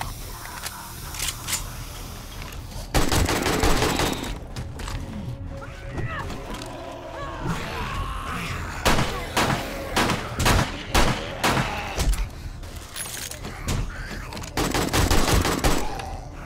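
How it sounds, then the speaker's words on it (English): Gunfire in 7 Days to Die, the zombie survival game, comes in repeated bursts of rapid shots between quieter stretches over sixteen seconds, with someone talking over parts of it. "I'll shoot you right in the back."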